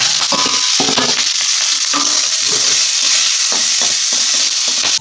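Onion, green chilli, cumin and mustard seeds frying in hot oil, with a loud, steady sizzle throughout and occasional stirring scrapes and clinks in the pan.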